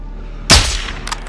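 A single sharp, loud gunshot from enemy fire in Call of Duty Modern Warfare 2, trailing into a short echoing decay, with a fainter second shot a moment later.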